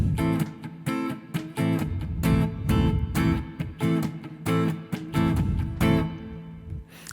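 Funk guitar rhythm in a lesson setting, choppy strummed chords mixed with muted dead-note scratches, a steady syncopated pattern of sharp strokes repeating for several seconds, close and clear with no talking.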